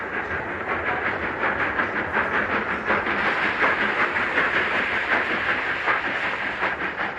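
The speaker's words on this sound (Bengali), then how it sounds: "অবশেষে যথাসময়ে ট্রেন প্ল্যাটফর্মে এলো।" Train arriving at a station platform as an audio drama effect, a steady, loud rolling rumble with rhythmic clickety-clack of wheels on rails and a hissing background, heard alone without voices.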